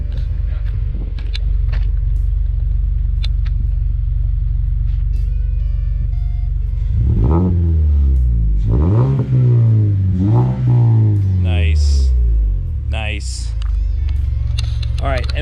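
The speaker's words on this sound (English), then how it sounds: "You wanna rev it?" A Mazda 3 engine idles with a low rumble through its exhaust, then revs up several times in rising and falling bursts, loud and close, with brief talk near the end.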